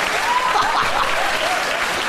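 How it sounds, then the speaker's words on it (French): Loud, dense applause from a comedy show audience rolls on steadily for about two seconds, with a faint voice or whistle-like tone briefly riding over the clapping. "Vous applaudissez?"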